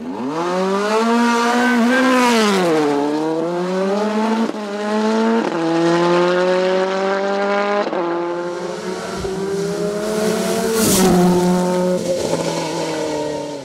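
A Simca Rally 2 race car on the Vuillafans-Echevannes hill climb screams loudly and close, its engine revving hard through several upshifts with pitch rising and dropping between gears.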